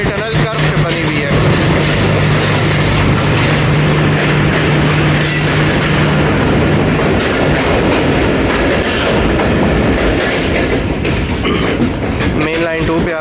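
The Khyber Mail train rumbles loud and steady through a curved tunnel in Pakistan, wheels clattering over the rails with a roaring echo that fills the whole stretch.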